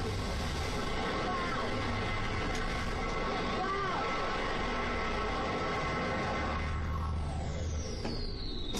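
A jet engine roars about two meters away, a loud, continuous broadband rumble that fills the whole stretch, with a rising whine near the end.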